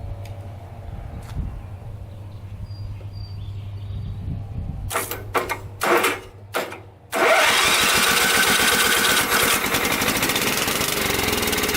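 An old Murray lawn tractor that sat unused for over ten years cranks with several short bursts, then catches and roars into a loud, steady running idle close by.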